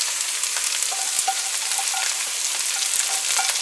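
Onions, scallions and celery sizzle steadily in a pan for egg fried rice, with light scraping and clicking as they are stirred, close and continuous with no talk.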